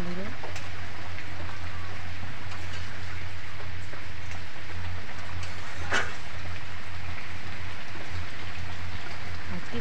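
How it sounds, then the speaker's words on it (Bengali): Steady rain falls through a rainy day, a dense even hiss with scattered drop patter over a low constant hum and no clear speech. "আজকে সারাদিন বৃষ্টি হচ্ছে।"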